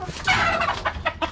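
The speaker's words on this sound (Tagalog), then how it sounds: "Dito yung mga brood hen natin na nakaabang" Brood hens cluck in short bursts close by, with soft background rustling and no talking.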